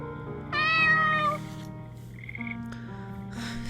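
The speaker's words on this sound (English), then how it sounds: "Pierre, if you kill a cat out of jealousy, really now." A cat in a video game gives a drawn-out, whiny meow followed by softer mewing sounds over a low musical background, fairly quiet and with no talk.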